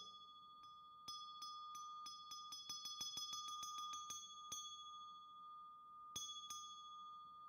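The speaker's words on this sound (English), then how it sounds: "You ring the bell a lot to get going." A small bell is struck repeatedly at a Buddhist Dharma assembly, sharp ringing strikes coming in a quickening series with lingering metallic tones, then two more strikes after a pause, close and clear.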